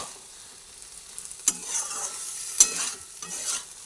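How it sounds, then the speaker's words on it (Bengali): A spoon stirs pointed gourd and chana dal in a hot pan, with a soft steady sizzle and two sharp scraping clinks against the pan, no voices. "দেখুন ডালগুলো বেশ একটু আস্তে আস্তে মতো আছে, কিন্তু ভালো সিদ্ধও হয়ে গেছে। সুন্দরভাবে এবার নাড়াচাড়া করে দিচ্ছি।"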